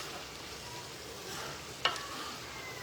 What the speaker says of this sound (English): Mix it. This stew has to cook.